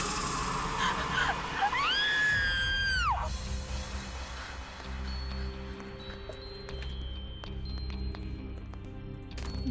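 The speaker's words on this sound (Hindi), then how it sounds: "फिर ये चीख।" A woman's high, rising scream of fear rings out loud and wavering for about two seconds, then breaks off, leaving muffled rumbling, faint clicks and room noise in the tense horror scene.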